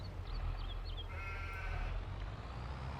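A few short sheep bleats in Farming Simulator 22 rise over a steady low rumble of background noise, with a faint wavering tone in the middle.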